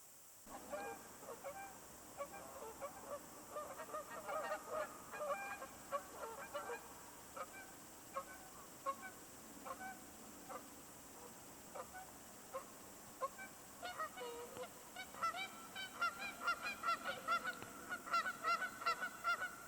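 Geese honk repeatedly at a park in spring, some intruding on a nesting pair's territory, a chorus of nasal calls in irregular bursts, growing busier toward the end, moderately distant and faint over quiet outdoor ambience.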